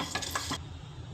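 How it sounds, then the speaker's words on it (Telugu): Sunflower seeds dry roasting in a pan give brief stirring rattles and a soft sizzle, a few quick scrapes close up before trailing off, with no talk. "సన్ఫ్లవర్ సీడ్స్ డ్రై రోస్ట్ చేయాలి"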